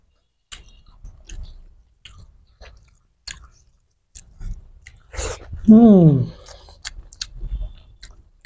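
Close, moist chewing and biting during a meal of spicy fish curry with rice, coming in scattered bursts, with a short vocal sound in the middle.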